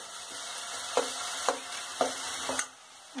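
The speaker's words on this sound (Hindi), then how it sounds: "ये प्याज बहुत अच्छे से फ्राई हुए हैं" Onions fry in a pan for a gravy while a spoon stirs them, a steady sizzle with about five regular scraping strokes against the pan, close and moderately loud, with no talk.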